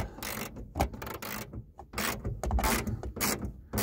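A ratchet tightening a bolt on a plastic car-speaker bracket in a 2008 Toyota Yaris, heard as close, irregular bursts of rasping, clicking strokes separated by short pauses, with no talking.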